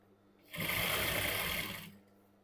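Sewing machine running steadily while stitching cigarette pants, one continuous burst of rapid needle whirring lasting about a second and a half, close and fairly loud, starting and stopping abruptly.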